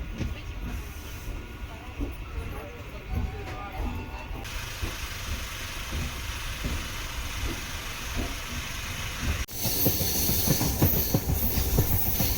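A MEMU passenger train on the Tiruvannamalai to Tambaram line rolls along the rails with a steady rumble and rhythmic wheel clatter, loud and close from inside a coach, with a sharper rise in noise near the end.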